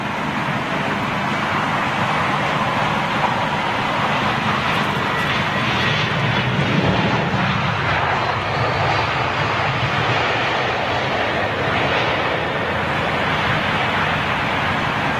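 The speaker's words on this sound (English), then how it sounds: "just a little Irish 320 in from Dublin" An Aer Lingus-style Irish Airbus A320 arriving from Dublin at Heathrow makes a continuous broad jet roar, loud and steady throughout, with some nearby road noise mixed in.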